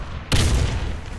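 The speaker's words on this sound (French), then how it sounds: "Attention, grenade!" Grenade explodes in a video game: after a quiet moment, a single sharp, loud blast hits and then decays into a rumbling tail.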